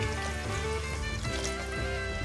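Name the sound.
water being poured into the cooking pan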